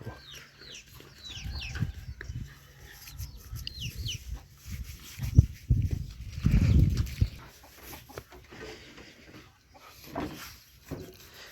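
Roosters crowing and chickens clucking around a small rice-field hut in rural Thailand on a cool, windy morning, the calls fairly distant and repeated, with louder low gusts and rustling in the middle.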